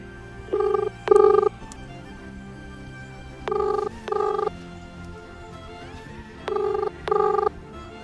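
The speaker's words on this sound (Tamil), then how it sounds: "விஜய் சேதுபதி அண்ணனுக்கு கால் பண்ண போகிறேன், வாங்க" An outgoing phone call rings out with three pairs of evenly spaced electronic ringback tones separated by pauses, clear and steady over faint room noise.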